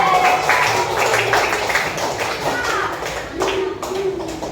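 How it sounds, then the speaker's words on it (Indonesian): Young children in an elementary religious-education classroom clap for their classmates, a loose, uneven patter of small hands with children's voices and chatter mixed in throughout. "Kita beri tepuk tangan buat teman-teman"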